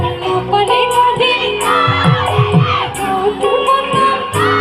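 A large crowd shouts a chant together in unison, many voices rising and falling in a loud, rhythmic call that carries through the full stretch without a break.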